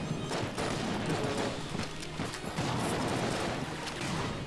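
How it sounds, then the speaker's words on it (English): Heavy artillery and dense gunfire in the bullet-hell game Enter the Gungeon, a loud, continuous barrage of overlapping shots and crashes filling the whole stretch. "I'm just shooting artillery."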